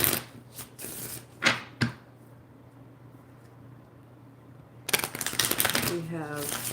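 Tarot cards shuffled and pulled during a live reading, with a few crisp riffling bursts near the start, a quiet pause, then a busier stretch of card handling as a voice speaks.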